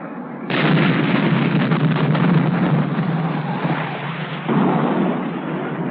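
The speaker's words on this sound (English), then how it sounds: "High-explosive and armor-piercing incendiaries destroyed the fighter." High-explosive and armor-piercing incendiary rounds destroy a radio-controlled jet fighter in a 1963 US Air Force weapons test, a sudden loud, sustained roaring blast and rumble that swells again before slowly fading.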